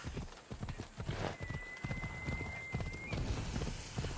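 An armored horse in Assassin's Creed Odyssey trots along, its hooves clip-clopping in a quick, uneven rhythm at close range, with a faint tonal whistle in the middle of the ride.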